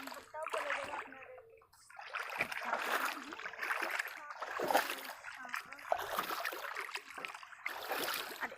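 Water splashes and sloshes repeatedly as people wade across water outdoors, in steady bursts of close, loud splashing with voices audible in the background.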